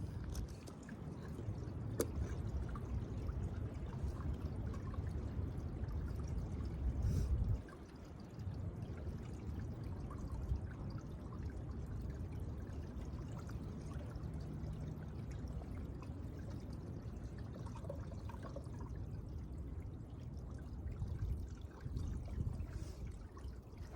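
Water being poured to fill a water bottle on the Appalachian Trail approach trail, a soft continuous trickle and pour heard close by over quiet outdoor ambience for a long stretch.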